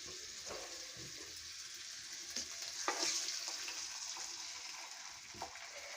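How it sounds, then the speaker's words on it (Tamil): Egg frying in oil in a pan, a steady close sizzle with a few brief louder crackles and stirring bursts, no talk. "முட்டை வதக்கலாம்."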